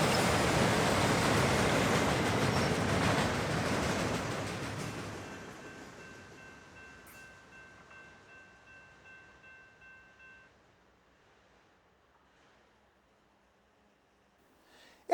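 A CSX freight train, running with an RJ Corman aluminum train, rumbles past loudly across the Kentucky River, its roar gradually fading into the distance with rhythmic clacking of wheels over rail joints until near silence.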